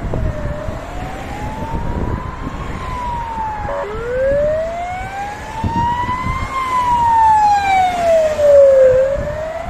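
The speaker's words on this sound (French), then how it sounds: "L'ambulance portugaise, à l'américaine." Portuguese ambulance siren with an American-style wail, rising and falling in long sweeping tones, loud and fairly close over steady road noise, swelling near the end as the vehicle approaches.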